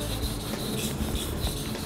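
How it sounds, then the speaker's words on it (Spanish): A kitchen knife rasps back and forth across a whetstone at an altered blade angle, giving close, continuous gritty scraping strokes with a steady rhythm. "Yo con solo escuchar sé si estoy afilando bien o estoy afilando mal."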